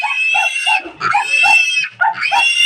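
Loud, shrill piglet squeals in rapid repeated bursts while the piglets are being moved, close by, with short pauses between the frantic cries.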